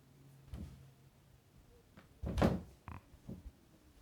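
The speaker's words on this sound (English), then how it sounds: "They're knocking on the door." Someone knocks on a house door, a few dull, irregular thuds and raps, with one louder cluster near the middle and softer knocks after it, heard fairly close in a quiet room.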